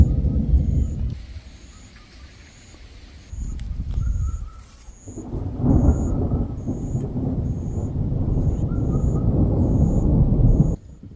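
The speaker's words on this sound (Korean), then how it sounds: "먹으려고 하는데 천둥번개가 막 치더라고요" Thunder rumbles heavily over a rural countryside house during a storm, deep rolling booms swelling and fading across the stretch, with a steady high bird chirp repeating in the background.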